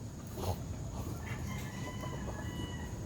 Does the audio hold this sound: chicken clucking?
yes